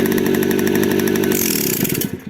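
A restored 1968 Riga-4 moped's small two-stroke engine runs loud and close with a buzzy, steady drone. Near the end it drops in pitch and sputters down toward idle.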